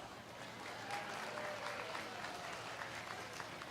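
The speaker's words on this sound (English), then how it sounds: "let's give our exhibitors another big round of applause." Steady applause from a crowd at a county fair 4-H/FFA market lamb show fills the space, a faint, even spatter of clapping with no break.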